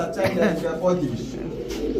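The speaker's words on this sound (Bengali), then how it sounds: "এক জোড়া বাঘা কবুতর" Pigeons, a pair of Jinjira Bagha pigeons at a pigeon market, coo close by in soft, rolling throaty calls, with people talking underneath.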